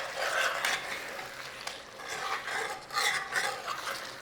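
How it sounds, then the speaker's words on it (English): Steady scraping and rubbing of a spoon through chicken ghee roast in a pan, with sugar being stirred into the rich, ghee-heavy mix, soft and continuous with brief pauses. "And we're going to give that a little mix in."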